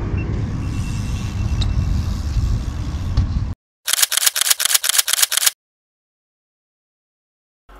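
A GoPro Hero 6 Black shoots a burst of photos, a rapid run of about ten crisp shutter clicks that follows a steady hum and cuts off into silence.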